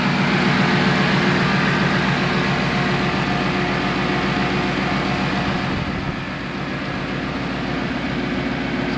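A 700 hp Ford Mustang engine idling with the hood open, a steady, loud, close rumble with an even pulsing throb that holds throughout and dips slightly near the end.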